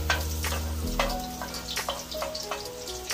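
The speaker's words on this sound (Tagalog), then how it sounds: "meron na tayong pinainit na mantika. Ngayon naman, guys, ay magigisa na tayo." Garlic hitting hot cooking oil for a sauté, a close crackling sizzle with scattered sharp pops and clinks of a utensil against the pan at irregular intervals.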